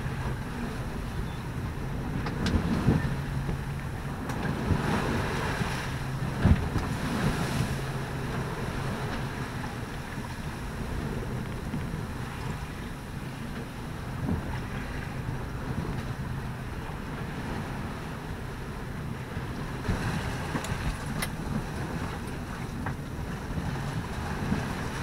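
Steady wind roars across a sailboat crossing the Bay of Biscay in a 17 to 20 knot breeze, mixed with constant rushing water and buffeting microphone gusts, with occasional creaks and knocks from the boat.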